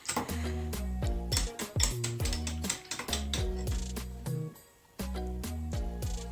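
Whisk clatters quickly and steadily against a bowl while beignet batter is mixed with a cup of milk, the tapping strokes sitting under fairly loud, tuneful background music.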